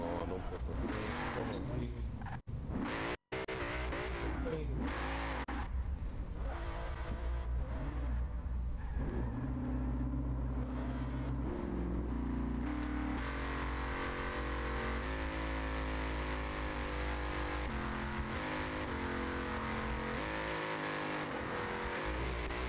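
Cars drag racing in the Forza Horizon 4 video game, with a Cadillac among them: steady engine roar and revving throughout, shifting pitch as they accelerate, with game music and talk over it.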